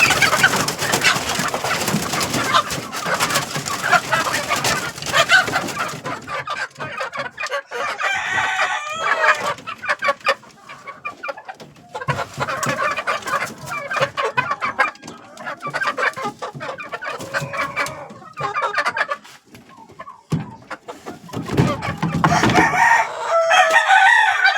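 Chickens cluck and a rooster crows nearby among grown chicks, loud and busy calls overlapping with other birds in an outdoor setting.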